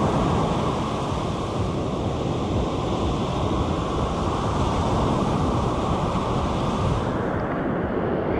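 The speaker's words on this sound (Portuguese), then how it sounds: "Olha o mar lá, olha o mar, olha o mar." Sea waves breaking on the beach at Praia Vermelha do Norte in Ubatuba, a steady, loud roar of surf with heavy wind rumble on the microphone, continuous throughout with no voices.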